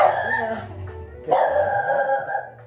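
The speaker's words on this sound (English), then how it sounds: "Excuse the hound, apologies." A hound barks and yips indoors during a yoga class, two loud bursts close by with a brief pause between them, while a voice speaks faintly underneath.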